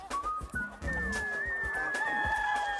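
Chickens on a farm fed insect larvae cluck and call close by, with a rooster-like crow and drawn-out high calls over low clucks and shuffling.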